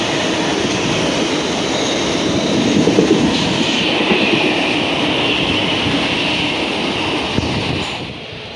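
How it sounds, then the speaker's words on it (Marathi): A local train pulling out of a station near Churchgate in Mumbai makes a loud, steady rumble with wheel clatter that holds for several seconds, then drops away at the end. "निघाली त्यांची ट्रेन."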